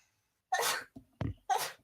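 Two quick sneezes from one person, close and fairly quiet, with a brief breath or small cough between them and no other sound around.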